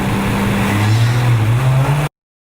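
A car sound effect takes off and pulls away, a loud engine roar whose pitch climbs steadily as it accelerates, ending abruptly in silence.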